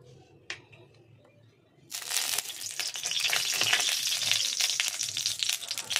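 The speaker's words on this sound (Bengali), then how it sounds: "কড়াইয়ের মধ্যে আবার কিছুটা তেল আমি দিয়ে দিলাম।" Oil in a wok heats after a quiet start, then breaks into a loud, steady crackling sizzle that carries on to the end.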